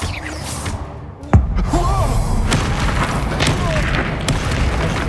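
Bombarda spell going off in Hogwarts Legacy: a single sharp, loud booming blast with a deep thud, followed by a dense rumble of continuing combat noise and magical whooshes.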